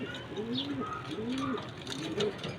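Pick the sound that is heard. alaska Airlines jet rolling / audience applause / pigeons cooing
pigeons cooing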